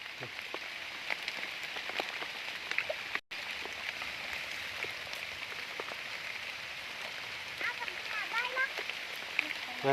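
Steady rain pattering on leaves and ground in a forest, a dense continuous hiss with scattered nearer drops and faint bird chirps in the background.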